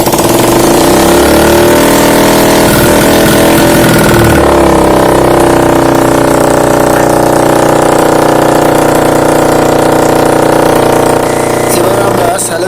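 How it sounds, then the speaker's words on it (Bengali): A Bajaj Platina Comfort 100cc motorcycle engine, freshly assembled and running before its silencer pipe is fitted, catches and settles into a loud, close, rough idle whose pitch shifts a few seconds in, then holds steady. "এবার আমরা ইঞ্জিনে মোবিল দিয়ে বাইকটিকে স্টার্ট দেব।"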